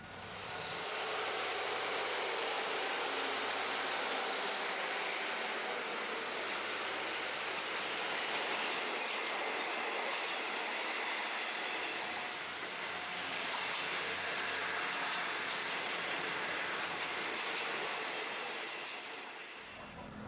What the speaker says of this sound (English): there's going to be another train coming